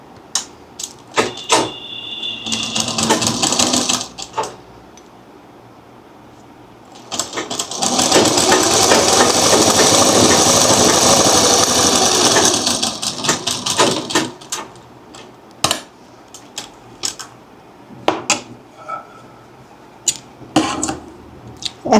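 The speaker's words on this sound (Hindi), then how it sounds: "तो हम इस कपड़े पे 1/4 पे 1/4 पे सिलाई लगाएंगे।" Sewing machine stitching fabric along a quarter-inch seam margin, a loud steady whirring run of about five seconds, preceded and followed by shorter bursts and handling clatter.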